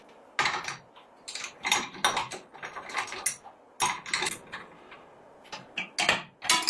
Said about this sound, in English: Align them evenly, then tighten the securing screws.